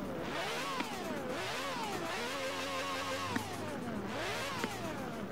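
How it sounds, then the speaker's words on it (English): A Lamborghini Gallardo Performante with a racing V12 engine in the video game Forza Horizon 4 revs repeatedly, its pitch rising and falling in several sweeps, heard at a steady moderate level with no talking. "let's hear the engine off the racing V12 off my Lamborghini Performante"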